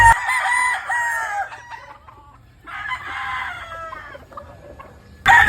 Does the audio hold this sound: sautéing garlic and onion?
no